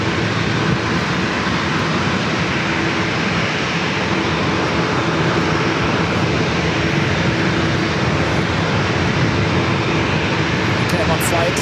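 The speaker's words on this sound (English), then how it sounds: "Flight 787-9 Dreamliner heading back to Amsterdam." KLM Boeing 787-9 Dreamliner departing north of runway 27 at San Diego airport, a steady broad roar of jet engines holding level throughout, with someone talking over it.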